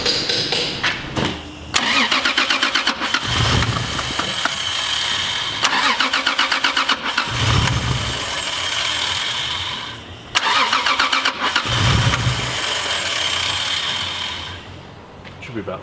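A Renault car engine cranking repeatedly, with several loud, rapid starter churns broken by short pauses, close up and harsh, running on for the whole stretch.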